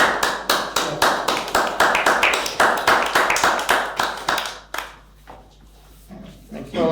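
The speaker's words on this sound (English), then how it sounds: "Which I think deserves a round of applause." At an inaugural council meeting, a room of people claps for a new town mayor, steady clapping for about five seconds before it fades out, with a voice speaking faintly afterward.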